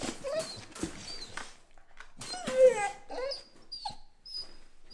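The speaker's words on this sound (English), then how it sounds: "Every morning she barks and she" Dog barking and whimpering in the morning, a few short barks followed by high, wavering whines and whimpers, close and alone with quiet gaps between them.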